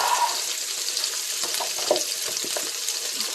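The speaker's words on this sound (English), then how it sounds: "we're going to put a little bit of beef broth in" Beef broth pours from a carton into a soup pot for a kimchi-inspired vegetable soup, a steady close liquid splash and hiss with small gurgles, no talking.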